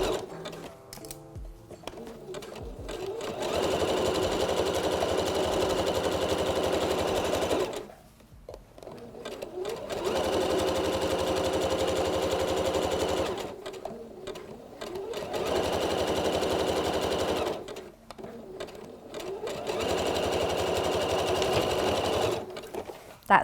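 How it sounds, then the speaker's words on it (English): A sewing machine stitches a hem on a top with a zigzag stitch, starting with a short back stitch. It runs in steady, loud whirring runs of several seconds, broken by brief pauses. "And little back stitch to start as normal."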